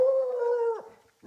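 A dog lets out a single drawn-out howl that bends downward at the end and breaks off, close and fairly loud, with a brief yelp-like noise after a short gap.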